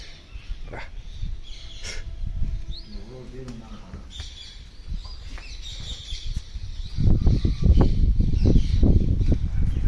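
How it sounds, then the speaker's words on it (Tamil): Shrill peacock calls ring out among people talking and the shuffling bustle of a crowd at a temple, growing louder toward the end. "மயில் இருக்குன்னு நினைக்கிறேன் மயிலோட சத்தம் தான்"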